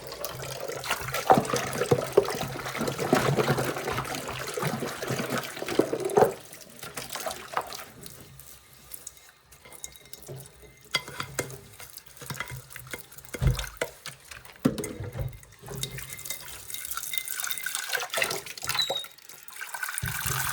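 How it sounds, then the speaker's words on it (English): A dog bowl is washed under a running tap, water splashing and pouring steadily into a sink with clinks of the bowl, close and fairly loud, pausing briefly midway before the flow resumes. "I'll just wash this dog bowl and then I'll run some fresh water."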